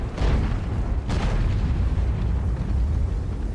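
Artillery shells exploding in the tank battle game World of Tanks: two heavy booming blasts, the second about a second after the first, each followed by a sustained low rumble, loud and close.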